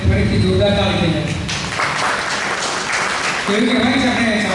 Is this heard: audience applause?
yes